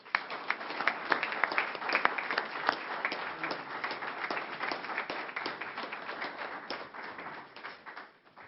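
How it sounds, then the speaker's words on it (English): Applause from the audience at a school board meeting, a dense, sustained patter of many hands clapping at moderate loudness that gradually tapers off toward the end. "let's give them a round of applause."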